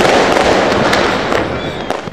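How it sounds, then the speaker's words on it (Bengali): Fireworks bursting one after another on New Year's night, a dense, loud, continuous crackle and boom of overlapping explosions with no pause. "একের পর এক আতশবাজি ফোটানোর মধ্য দিয়ে আলোকিত হয়ে ওঠে নতুন নববর্ষের রাত"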